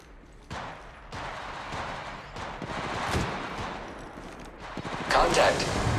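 Gunfire in the first-person shooter Apex Legends, with bursts of shots and booming impacts over a loud, dense battle mix that builds toward a heavier blast near the end.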